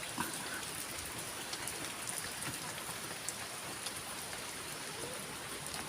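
Steady rain falls on a pig farm, a faint, even hiss of many drops pattering on surfaces with no talking.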